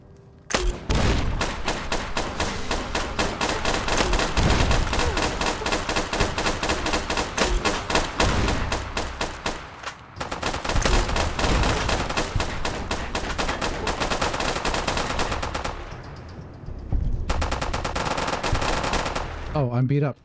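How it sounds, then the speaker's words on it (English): A mercenary's grenade rifle fires in Fallout New Vegas, setting off a long stretch of dense, continuous gunfire and blasts with brief pauses, loud and close throughout. "Mercenary's grenade rifle."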